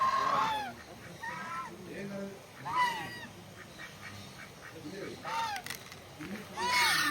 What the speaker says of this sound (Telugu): ఈ డక్స్